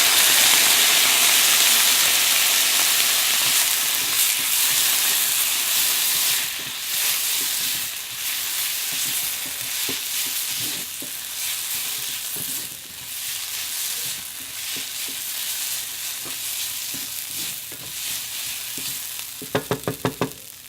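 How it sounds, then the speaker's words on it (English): White wine splashed into a pan of onions and garlic, giving a strong steady sizzle and hiss that gradually eases, with a few stirring scrapes and a quick rattle of taps near the end. "splash of white wine, just to add a little bit of flavor, but also to deglaze"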